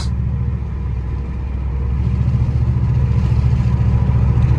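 A straight-piped Pontiac Bonneville GXP rumbles loudly as it accelerates, its exhaust drone deepening and swelling steadily over a few seconds, heard up close from inside the car with the windows down.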